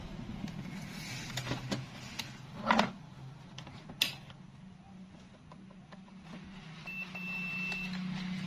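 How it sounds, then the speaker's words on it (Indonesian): A few short electronic beeps from a multimeter's continuity buzzer, testing a dead Panasonic LED TV, ring out over a low steady hum, with faint clicks and a brief tone near the end; no one speaks. "Kita tes dulu pakai dengan skala buzzer aja."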